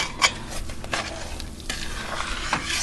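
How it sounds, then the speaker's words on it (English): A spoon scrapes and stirs sugar in a pot while making butter toffee, with soft irregular scraping and occasional clinks up close. "Stir it up really well and get that sugar all dissolved so that it becomes a cohesive liquid state"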